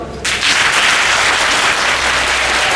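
An audience of students and parents at a Palakkad IAS coaching seminar bursts into loud, sustained applause, dense clapping beginning abruptly and holding steady to the end.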